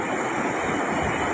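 Ocean waves wash steadily onto the shore in a dense, continuous roar of surf with no pauses or voices.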